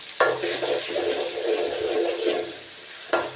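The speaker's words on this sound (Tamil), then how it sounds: "நம்ம உரலில் போட்டு இடித்து வச்சுருக்க வெங்காயத்தை சேர்த்து நல்லா வதக்கி விட்டுக்கலாம்" Pounded onions sauté in hot oil with a steady, close sizzle, broken by a sharp clack at the start and another near the end, with no talk.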